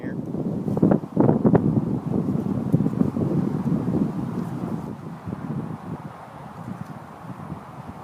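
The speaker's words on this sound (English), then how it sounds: "It's still windy down here." Outdoor wind buffeting the microphone at an aluminum casting setup, gusting in uneven bursts of low rumble that rise and fall over several seconds, fairly close and loud, with no talk.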